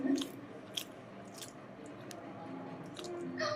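Soft, wet chewing of a small taste of homemade chicken biryani, close and quiet with a few squishy bites over low room noise.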